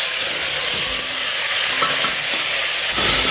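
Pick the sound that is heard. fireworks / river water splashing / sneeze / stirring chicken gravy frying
stirring chicken gravy frying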